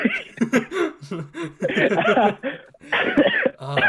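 A young man coughs hard in short, rough bursts after drinking something, with chuckling and casual talk from others mixed in close by.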